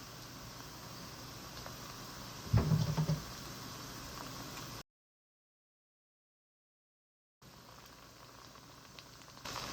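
Tomato paste cooks in a pot for jollof rice, giving a soft, steady bubbling hiss with one brief knock early on, then a silent gap before the gentle simmer resumes.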